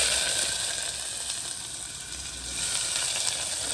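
Chopped onion hits hot oil with fennel seeds and other tempering spices, giving a loud, dense, continuous hiss of frying heard up close with no voices.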